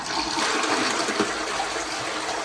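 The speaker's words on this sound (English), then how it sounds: "When you're finished, you flush," A toilet flushing just after cleaning, a steady rushing of water filling the short clip from start to end, close and fairly loud with no talk.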